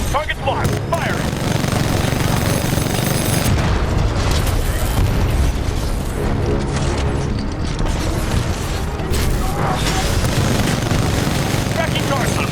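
Titan weapon fire in Titanfall 2 during a smart core attack: continuous loud booming and bursting blasts with rolling explosions, dense and unbroken, with game voices talking over it.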